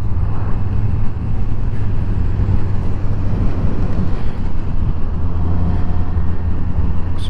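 A 2021 Honda CB650R motorcycle out on a ride, its engine droning steadily under a loud continuous rush of wind, sustained and close for the whole stretch with no talking.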